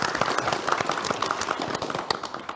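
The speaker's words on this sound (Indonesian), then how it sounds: "Tepuk tangan dong." A studio audience claps on an Indonesian talk show set, a dense patter of many hands at steady, moderate loudness, with no talking over it.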